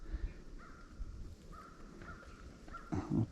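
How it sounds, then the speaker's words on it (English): Crows caw in snowy winter woods by a lake: several hoarse, drawn-out calls at moderate distance, spaced a second or so apart over a faint outdoor hush, with a couple of dull nearby thumps. "What them birds are over there."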